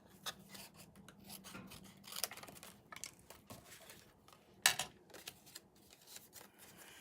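Scissors snip off excess material during a papercraft project, with a few sharp close cuts scattered among soft rustling and handling noises.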